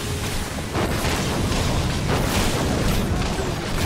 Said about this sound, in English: Also just lobbing grenades.